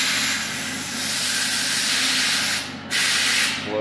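Compressed air blows hard through the clogged abrasive line of an Omax 1508 waterjet, a loud steady hiss that briefly stops and then bursts out again.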